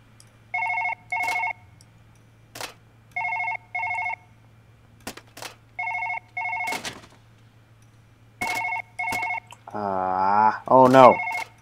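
A telephone rings again and again in the video game Surgeon Simulator 2013, crisp double-pulse trills repeating at a steady pace, with clicks and tapping between rings and someone talking near the end.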